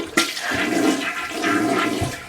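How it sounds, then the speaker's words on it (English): A household toilet flushes, starting with a sharp lever click and then a loud, sustained rush of water over about two seconds, heard up close with no talking. "And then look at the toilet. And now you flush it."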